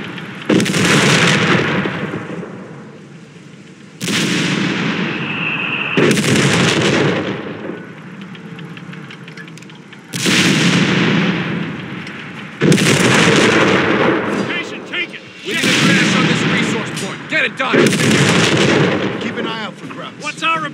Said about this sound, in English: Gunner, requesting AG. Barrage. Fire for effect.